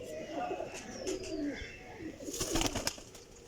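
Pigeons coo softly with low, throaty calls and a few brief flutters of wings, close by, while someone talks in the background.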